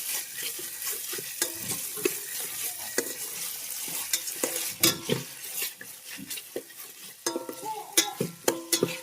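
Tempering for pulao sizzles steadily in a hot pan, with sharp crackles and frequent scraping stir strokes across the whole stretch, close and fairly loud with no talking.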